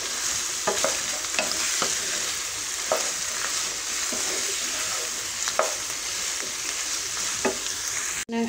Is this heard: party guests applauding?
no